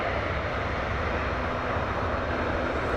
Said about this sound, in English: It is a Cessna 208B Grand Caravan.